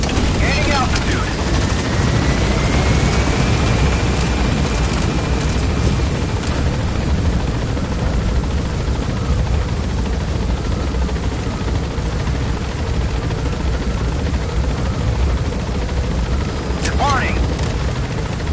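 A helicopter in the video game Metal Gear Solid 5 climbs higher with a steady, loud rotor drone that runs the whole time. A rising tone sweeps upward near the start, and brief crackling bursts come near the end.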